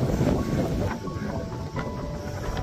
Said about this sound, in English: Oh, the wind's starting to get up now